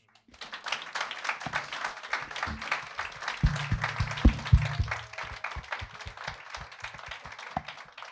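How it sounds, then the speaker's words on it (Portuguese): Audience at a bookstore book talk breaks into applause, dense clapping that builds quickly, stays strong for several seconds and then thins out to scattered claps. "eu peço-te que saudemos a ti e a esta sala de operações, nós todos, com uma grande e bela salva de palmas"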